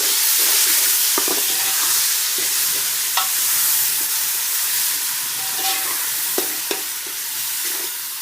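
Onion fries in oil with whole garam masala and chili as ginger garlic paste is stirred in. A continuous hissing sizzle runs throughout, broken by occasional spatula clicks and scrapes, with no talk.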